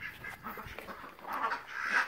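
Domestic ducks quacking and chattering close by at breakfast feeding time, a busy overlapping flock that grows louder toward the end.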